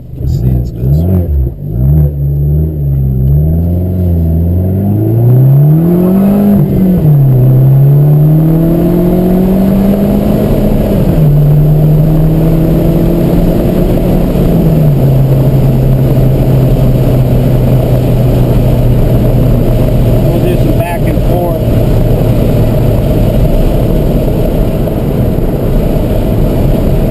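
Lowered Abarth car engine revving and accelerating while driving, loud and close, the pitch climbing and dropping through gear changes before settling into a steady cruising drone.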